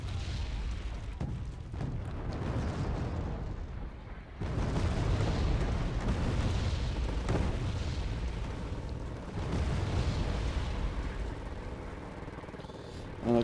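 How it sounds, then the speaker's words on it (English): Artillery fire trades back and forth in the real-time strategy game Wargame Red Dragon, a dense run of heavy booms and rumbling blasts that rolls on almost without pause, with a voice talking over the battle. "And a constant arty fire back and forth."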